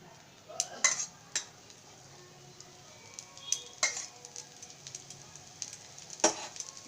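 Oil on a pan for Odia chakuli pitha, a faint low sizzle broken by several sharp clinks of a utensil against the pan, close by and quiet, with no talk.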